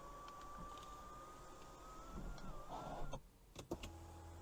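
The panoramic roof motor of a 2021 BMW X5 xDrive40i M Sport whirs quietly and steadily as the roof closes inside the cabin, ending with a soft thunk and a couple of clicks.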